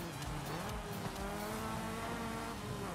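An Opel Ascona in the Forza racing game revs steadily while its tires squeal in a sustained skid, the engine note rising and holding at moderate volume with no talking.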